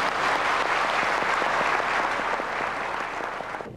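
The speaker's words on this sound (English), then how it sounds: "Join me another round of applause" Steady, dense applause from a large crowd at a ceremony in Honolulu, Hawaii, fills the whole stretch, holding loud before easing off slightly near the end.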